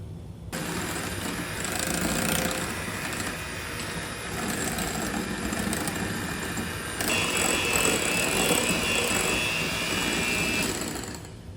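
Electric mixer whipping powdered sugar and heavy whipping cream, a steady high motor whine with beater whirr running continuously and fairly loud, shifting slightly in pitch partway through as the speed changes, no talking.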